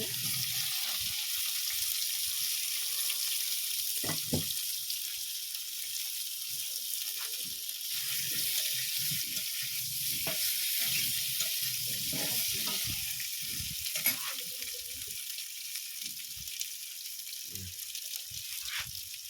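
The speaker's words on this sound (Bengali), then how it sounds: "সিদ্ধ করে রেখেছিলাম আলুটা একটু ভেজে নেব" Boiled potatoes frying in a pan, giving a soft, steady sizzle with scattered crackles and occasional scraping or stirring knocks, fairly close and without talk.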